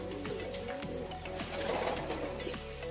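Pigeons in a breeding loft cooing softly, with low repeated coos at moderate distance over a steady background hum and faint rustling as the birds peck at natural grit on the floor.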